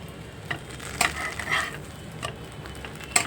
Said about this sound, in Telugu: ఇలాగా అన్ని బ్రెడ్లు మీకు ఎన్ని కావాలో అన్నీ కాల్చుకోవాలండి